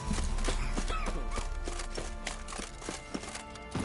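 Hooves of Roach, a horse in The Witcher 3 video game, clip-clop in a steady trotting rhythm over a dense game soundscape, with distinct hoof knocks standing out from the background.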